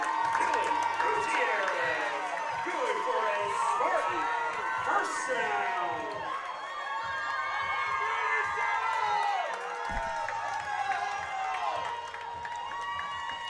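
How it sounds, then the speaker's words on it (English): Home crowd cheering and shouting at a high school football game, a loud, sustained roar of many voices from the stands with whoops rising and falling under a commentator's talk throughout. "The Spartan crowd getting really into it."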